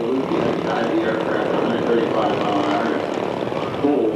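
A WWII medium bomber makes a slow, low pass with its undercarriage lowered, giving a steady, loud engine drone that holds throughout under a broadband rush.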